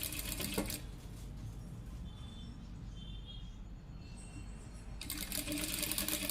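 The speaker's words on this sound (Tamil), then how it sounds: "அதனால் நான் டைரெக்டாக தைக்கிறேன்" A sewing machine stitches an aari work blouse indoors, with a steady fine mechanical whirr running throughout. Short louder, more rattling bursts of stitching come at the start and again near the end.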